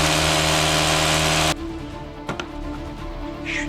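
A power screwdriver driving screws into plasterboard, a loud steady motor whine that cuts off abruptly partway, followed by quieter clicks and handling noise.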